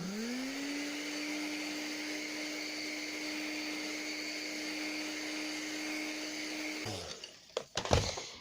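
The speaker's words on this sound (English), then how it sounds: "if I use the hairdryer again, then it blends itself back in again" Hairdryer blowing over wet fabric paint, a steady whirring drone with a constant whine, running alone for several seconds before switching off, followed by a few handling clatters.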